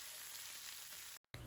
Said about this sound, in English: you're going to put it back on the stove and keep frying them so they can fully cook